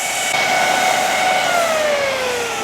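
A foam party machine runs steadily with a loud, continuous blowing whoosh, a falling whine sliding down beneath the constant airflow.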